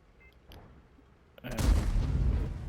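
A tank cannon fires in World of Tanks with a sudden heavy boom after a quiet lead-in, followed by a rumbling tail that stays loud to the end.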